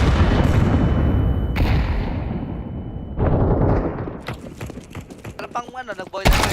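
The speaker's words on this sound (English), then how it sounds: "Grenade" A grenade blast in a first-person shooter, booming broadband bursts and gunfire crackle, with louder sharp impacts toward the end over a continuous rumble of game action.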